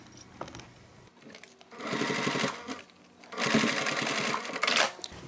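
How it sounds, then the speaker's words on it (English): A sewing machine top stitching around a fabric crossbody bag runs in two rapid buzzing bursts separated by a short pause, close and clear with soft handling clicks between. "And then we top stitch."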